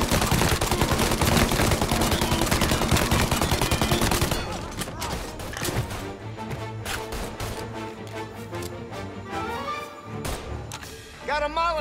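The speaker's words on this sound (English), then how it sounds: "Reports of gunshots rolling in." Rapid bursts of gunfire crackle loudly for the first few seconds in the video game Mafia: Definitive Edition, then give way to scattered shots and thuds under busy game sounds and brief voices.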